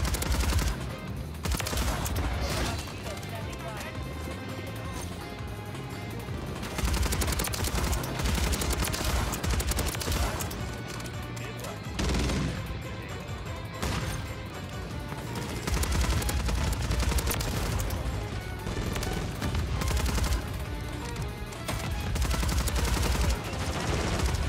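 Superi 46 submachine gun firing in the online shooter Call of Duty Modern Warfare 3, rapid close automatic bursts chattering almost without pause over a busy, loud battle soundscape with other shots and thuds around.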